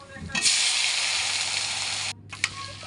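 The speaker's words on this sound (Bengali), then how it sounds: "এবার কড়ার মধ্যে দিয়ে দিচ্ছি গোটা জিরে আর টমেটো কুচি।" Whole cumin seeds and chopped tomato hit hot oil in a wok, a loud steady broadband sizzle that holds for about two seconds, cuts out briefly, then returns.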